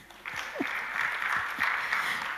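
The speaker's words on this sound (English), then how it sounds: "we can clap for that." Audience clapping steadily throughout a labor convention and expo hall, a broad moderate wash of applause with a few low thumps and murmurs beneath.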